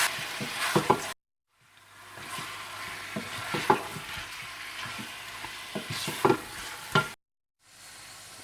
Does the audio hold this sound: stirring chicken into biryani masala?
yes